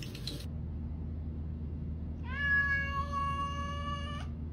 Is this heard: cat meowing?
yes